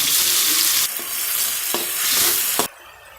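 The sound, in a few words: frying onions and tomatoes for prawn kulambu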